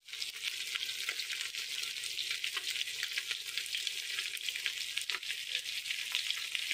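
Small river fish fry in oil in a wok, giving a soft, steady crackling sizzle with scattered pops, fairly quiet and unbroken, with no voices.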